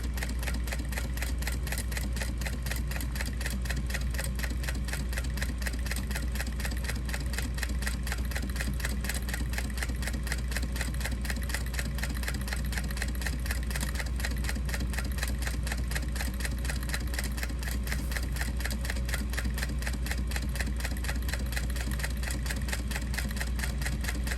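A sewing machine runs slowly along the edge of a fabric tote bag, an even mechanical chatter of repeated needle strokes that holds steady and close for the whole stretch with no voice.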